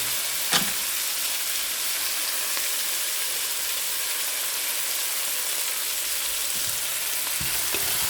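Spices sautéing in a pot for a chicken and vegetable lemongrass soup: an even, loud, close sizzle throughout, with a sharp utensil knock near the start and a few faint stirring scrapes later.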